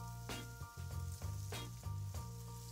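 Bacon hits a hot frying pan and sizzles loudly and steadily, with bursts of spitting crackle over a constant low hum, while a trucker cooks spaghetti bolognese.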